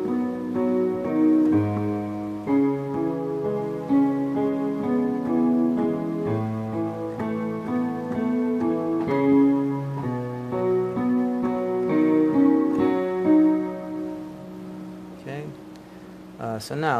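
Piano playing the left-hand part of a pop song: repeated low chords and bass notes in a steady pop rhythm, close and moderately loud, with no voices.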